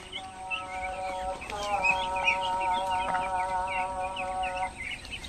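Domestic ducks of a local breed on a farm, calling and clucking as they move into their house, with a steady chorus of bird calls and a few louder squawks throughout.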